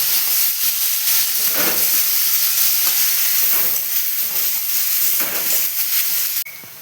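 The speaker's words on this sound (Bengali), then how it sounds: "পেঁয়াজ দিয়ে বেশ লাল লাল করে একটু ভেজে নিই" Steady loud sizzling of onions frying in hot oil, with occasional stirring scrapes, continuous throughout before dropping slightly at the end.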